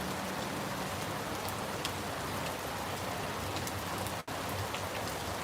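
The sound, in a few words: rain falling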